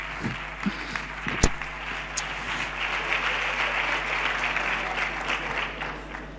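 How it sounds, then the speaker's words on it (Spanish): Audience applause at a Spanish-language stage presentation as speakers take the stage, a fairly steady mid-level clapping from a crowd with a few sharper near claps early on. "Por favor, un fuerte aplauso para ellos."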